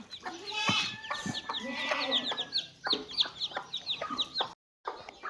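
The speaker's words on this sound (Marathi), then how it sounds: "बघा आपल्या कोंबडीने पिल्लं काढली तर छोटी छोटी मस्त अशी" A hen clucks steadily at close range while her newly hatched chicks peep in high, rapid chirps around her.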